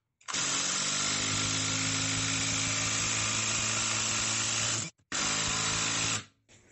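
A ProStormer impact driver set to torque level 3 sinks a 4.8 x 65 mm screw. It gives a loud, close, continuous whir for about five seconds, stops briefly, then runs in one short final burst.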